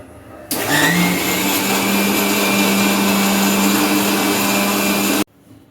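A kitchen mixer grinder blends a milkshake, starting abruptly with a loud, steady high whine that runs unbroken for nearly five seconds before stopping sharply, leaving a quiet background.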